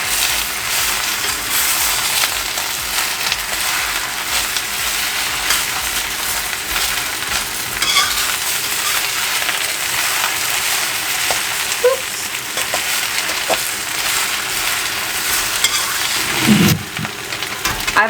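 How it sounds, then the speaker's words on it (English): Kale stir-fries in a wok for pad see ew, a loud, continuous sizzle and crackle of hot oil with occasional scraping and stirring clinks throughout, and no voices. "Now you add the kale and just let it wilt a bit."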